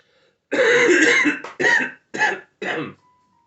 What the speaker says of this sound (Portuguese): Tô com uma tosse terrível.